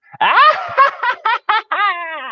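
A voice imitates a witch's cackle: a high, wavering laugh broken into several sharp bursts, ending in a drawn-out trailing cackle.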